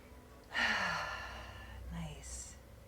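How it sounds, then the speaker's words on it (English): A deep breath in during a seated yoga flow in prayer position, one long airy inhale lasting over a second, close and fairly loud, followed by a softer breathy release. "Soften your gaze and let's take a deep breath in."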